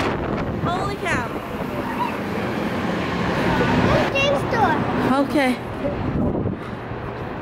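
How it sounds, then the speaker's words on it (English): Strong gusty wind buffets the microphone outdoors in Las Vegas, a loud rumbling roar that swells and dips throughout while a person talks briefly over it. "it is extremely windy here in Las Vegas."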